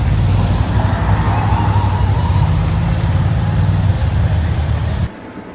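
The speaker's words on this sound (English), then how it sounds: "Oh, an ambulance." A loud wailing ambulance siren sweeps steadily over heavy traffic rumble, close by, then cuts off abruptly near the end.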